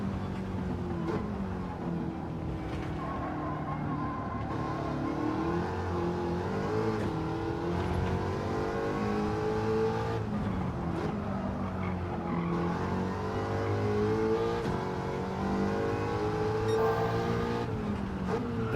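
An American muscle car engine in a racing video game revs steadily through a race, its tone rising and falling with shifts and a downshift, loud and continuous throughout.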